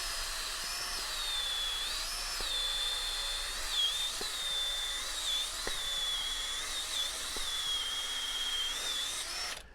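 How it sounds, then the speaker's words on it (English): A power drill bores a hole in the earth for a farm fabrication foundation, its motor holding a steady high whine for nearly ten seconds, with small shifts in pitch as the bit works down. "you drill a hole"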